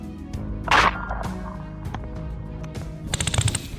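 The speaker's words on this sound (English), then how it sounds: "The sound of gunshots rang out," Gunshots ring out during a night hunt for wild boar in a field: a few sharp, moderately distant cracks and short bursts scattered over a few seconds, fairly quiet overall, with some rustling between them.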